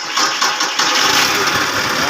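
A Marais trencher machine's engine turns over and catches, a loud mid-pitched mechanical roar settling into a steady run with no speech.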